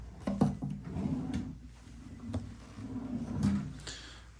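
Wooden drawers in a hotel room are slid open and shut, several soft knocks and sliding scrapes spaced across the moment, close and quiet with no talking.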